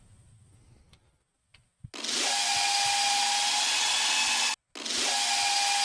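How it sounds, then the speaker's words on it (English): Death bass synth in an electronic track, a loud sustained distorted tone that erupts after a near-silent lead-in, cuts out for a beat, then slams back in. "This is death bass here. That sounds like this."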